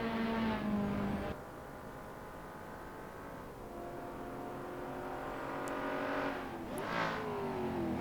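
Touring car legends from 1967, a Mazda, an Alfa Romeo and a Ford Mustang, racing at Silverstone in the Assetto Corsa video game, their engines droning and revving steadily with shifting pitch as the cars run close together through a corner.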